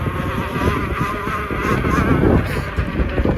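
A Kingsong S20 electric unicycle motor accelerates with a continuous whining hum layered over rushing wind and road noise, fairly loud and steady across the short stretch.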